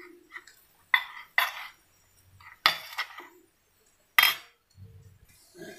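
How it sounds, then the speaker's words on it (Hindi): A mushroom marinade with ginger garlic paste is mixed in a bowl, giving a few sharp clinks and scrapes of utensil against the bowl, separated by quiet pauses. "इसको हम अच्छे से मिक्स कर लेंगे।"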